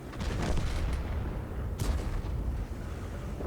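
Tank cannon shots land during a World of Tanks battle, a steady rumble of distant gunfire and booms, with one sharper crack standing out midway through the dense battlefield noise.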